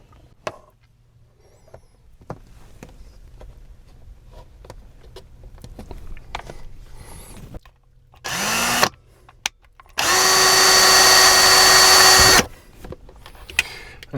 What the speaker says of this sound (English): I'll go ahead and drill the pilot hole for the other one